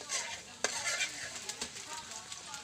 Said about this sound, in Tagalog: Gisa lang natin yan